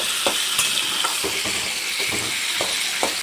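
Boiled jackfruit seeds sizzle in a hot pan while a spatula stirs and scrapes them in regular strokes, close and fairly loud over a continuous frying hiss.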